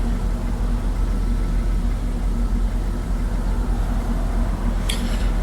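Parked car idling, a steady low engine rumble and hum holding constant throughout, close and fairly loud, with a brief high rattle near the end and no speech.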